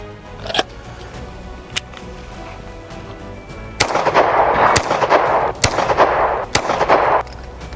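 A Star 30M pistol fires about seven loud, sharp reports at uneven intervals, each with a short echoing tail, with no talking over the shots.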